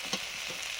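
A brief, even hiss of neem leaves and eggplant frying in a pan, close and fairly soft, with a faint crackle near the start.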